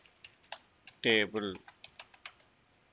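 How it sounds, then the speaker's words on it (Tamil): A PowerShell command is typed on a computer keyboard as a run of sharp, irregular key clicks close up. A voice briefly speaks partway through. "ஸோ அதை தான் இப்போ டைப் பண்ண போகிறோம் இப்போ இங்கே."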